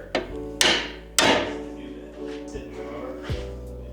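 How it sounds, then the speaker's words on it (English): Three sharp metallic hammer blows ring out close by on a car part while lowering springs are installed, spaced unevenly, followed by quieter clanks and shop noise. "Need a little hammer."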